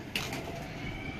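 Pigeons coo softly at a breeder's loft in Dharampura, a low murmuring call under a steady rushing background with no talk.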